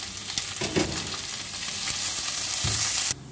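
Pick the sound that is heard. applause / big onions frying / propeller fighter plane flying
big onions frying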